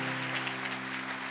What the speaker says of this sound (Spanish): Alguien que le dé un aplauso al Señor bien fuerte